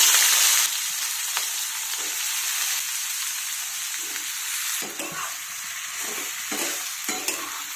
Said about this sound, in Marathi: अशा फोडी तेलामध्ये परतून घेतल्या ना की भाजी चवीला खूप छान होते